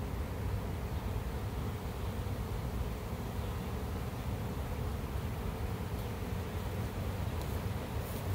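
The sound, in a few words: large swarm of honey bees buzzing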